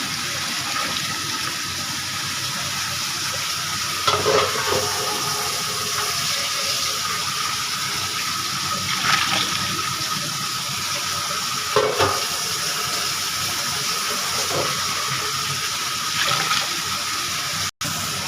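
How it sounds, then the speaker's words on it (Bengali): Water splashed into a hot frying pan brings a steady hiss and bubbling in a home kitchen, with a few louder stirring scrapes at intervals and a sharp clunk near the end. "এখন আমি পানি দিয়ে দিলাম"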